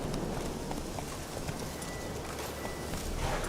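Roach, the horse in The Witcher 3, gallops in a steady stream of hoofbeats over a dense, busy background, with no one speaking.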